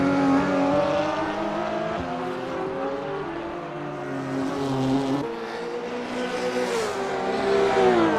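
GT3 race cars at the Nürburgring 24 Hours, including the Watt Racing Supra, engines screaming at high revs with rising and falling tones through gear changes as cars pass close by, loud and continuous.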